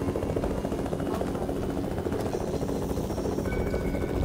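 Helicopter in the Fortnite video game, a continuous low rotor thrum and engine drone filling the scene at steady volume.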